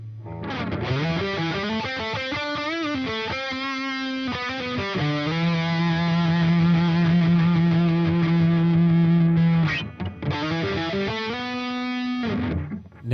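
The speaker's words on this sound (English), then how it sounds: "The sustain in the tube driver sounds great." Electric guitar played through a Mooer GE300 tube driver overdrive, thick distorted notes and chords with long sustain ringing out, loud and close with no voices.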